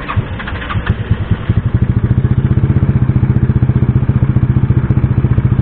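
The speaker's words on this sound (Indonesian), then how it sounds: "kita panaskan motor terlebih dahulu" A Yamaha Mio motorcycle engine starts and settles into a steady warm-up idle, its close, rhythmic chugging putter holding an even pace.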